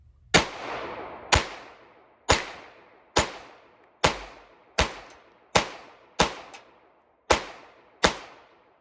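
Ten sharp pistol shots from a Smith & Wesson Model 422 crack out one at a time at a steady pace about a second apart, each a loud, close report with a short decaying echo.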